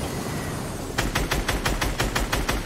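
Gunfire in the Fortnite video game from a Gold Peely player: after a second of low ambient rumble, a rapid, evenly spaced burst of shots rings out loud and close, continuing steadily to the end.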